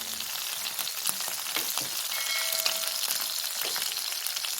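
Kebabs frying in hot oil in a pan, a continuous crackling sizzle with scattered pops and spatters, fairly quiet and steady throughout, no voices.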